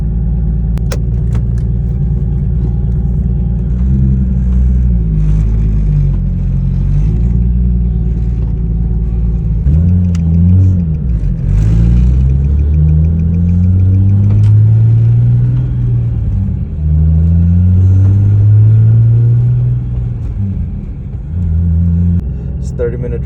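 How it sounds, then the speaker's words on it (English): A Nissan 350Z cruises on the freeway, its engine a steady low rumble with rising and falling revs through the gears, loud and continuous inside the cabin, with no talking. "But for now, let's drive."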